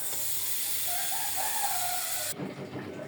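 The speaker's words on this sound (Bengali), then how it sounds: "এবার ভেজে নিব একটা চাপা শুটকি" Chapa shutki, a dried fish, frying in a pan gives off a steady, fairly loud hiss that cuts off abruptly near the end, leaving only quieter, patchy background noise.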